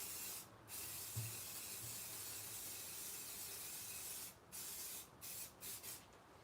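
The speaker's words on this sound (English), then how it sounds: "So let me grab my silver. Again, I'm just going to step right outside to spray this." Silver spray paint hisses from an aerosol can outdoors in a steady broadband spray, broken by a few short pauses between bursts, fairly quiet and with no talking.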